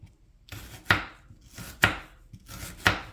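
A knife chops onions on a cutting board, three sharp evenly spaced thuds with soft slicing between them, close and alone without talk.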